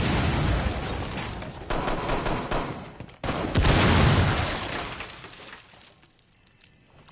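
Bursts of rapid gunfire tear through a wall in a video game, with loud overlapping shots, crackling breakage and debris that fade toward the end.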